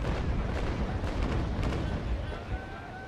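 Frigate cannons in Naval Action fire chain shot with a heavy, continuous rumbling boom that fills the moment, loud and close, with speech faintly underneath.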